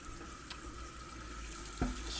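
Water runs steadily from a tap into a sink in a quiet workshop where tumblers are engraved, with a soft continuous hiss throughout and a brief knock near the end.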